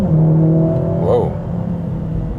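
A 2021 Mercedes-AMG GLA 45 S engine revs with a steady droning tone, rising briefly and then settling, its exhaust burbling low throughout.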